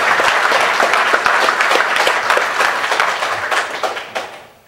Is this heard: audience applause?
yes